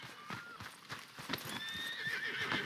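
A horse in Red Dead Redemption 2 trotting and galloping with rhythmic clip-clop hoofbeats, a whinny rising over the steps, fairly quiet and close.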